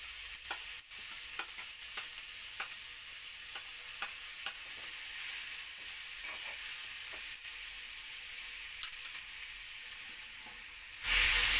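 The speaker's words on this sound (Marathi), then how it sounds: "आपण ढोबळी मिरची घालून घेऊ त्याच्यात। कोबी घालून घेऊया आता।" Capsicum and cabbage sizzle and fry in a kadai, a steady crackling hiss broken by repeated scraping stirs, close and continuous, ending in a sudden louder burst of sizzle.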